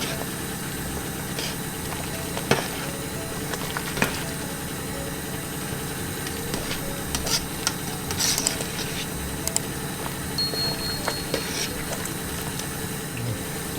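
Salt beef soup being stirred in a pot on the fire, a steady bubbling simmer close by with scattered clinks and scrapes of a spoon against the pot, no talking.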